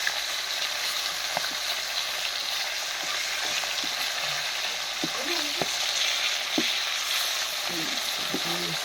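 Fish fry steadily on a clay stove, a continuous dense sizzle and crackle close by, with scattered light clinks and scrapes of turning throughout, no talk.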